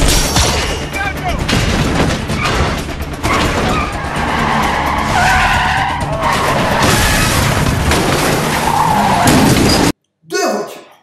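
Cars in a Bad Boys movie chase scene skid loudly with screeching tires amid crashes and engine noise, a dense continuous barrage that cuts out abruptly near the end before a short burst returns.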